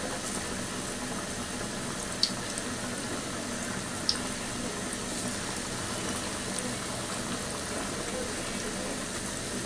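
Moringa leaf pakoras frying in oil: an even, bubbling sizzle held at a constant level throughout, with a couple of faint clicks above it and no voices.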